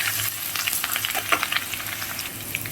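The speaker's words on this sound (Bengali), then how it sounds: "দিয়ে একটু ভালো করে কষে নেব।" Garlic paste and mutton sauté over low flame in a pan for Bengali kosha mangsho, a steady close sizzle and crackle with scattered stirring scrapes throughout.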